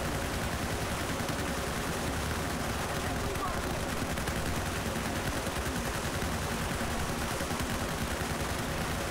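Dense, continuous gunfire in a Battlefield 4 match, rapid overlapping shots and bursts filling the whole stretch at a steady high level, with voices talking faintly underneath.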